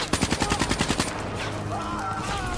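Automatic fire from the KL-44 weapon in the video game Black Ops 3, a fast regular burst of about ten loud close shots lasting a second, followed by lingering game noise.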